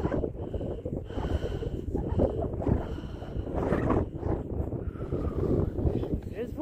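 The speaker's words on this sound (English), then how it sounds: "It's windy." Strong wind gusts buffet the microphone on the open summit of Max Patch, a steady low roar rising and falling in bursts, with faint breathy sounds mixed in.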